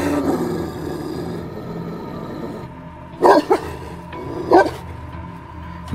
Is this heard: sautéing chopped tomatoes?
no